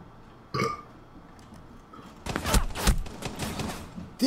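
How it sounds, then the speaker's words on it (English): A burst of muffled gunfire from the Rainbow Six video game, rounds fired through a wall, comes as a cluster of sharp, moderately close shots after a brief single report and quiet stretch. "This muck, he's shooting me through a wall!"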